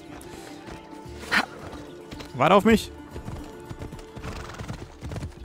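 A horse in Assassin's Creed Odyssey, set in ancient Greece: hoofbeats clop under a man's speech, a clear whinny rises midway, and hooves keep sounding faintly afterward.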